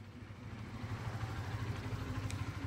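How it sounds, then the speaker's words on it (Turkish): A Honda CBR 125R motorcycle engine idles steadily at close range, a low, even putter with a faint rattle and no voices. "Biraz motor kendi halinde çalışsın."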